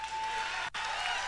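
Audience applause at a political debate between Abbott and Beto, a steady wash of clapping from a crowd at moderate distance, with a brief dip in the middle.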